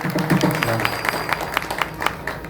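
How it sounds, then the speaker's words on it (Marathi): Audience at a Guru Purnima festival kirtan clapping briefly, a short burst of applause over a low murmur and faint voice. "टाळ्या वाजवा"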